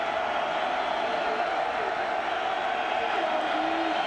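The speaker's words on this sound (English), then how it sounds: "So a better than capacity crowd here for the first Big 12 game in history." A packed, better-than-capacity football stadium crowd at KSU Stadium for a Kansas State versus Texas Tech Big 12 game, a steady distant roar of murmuring voices with no distinct cheers, continuous throughout.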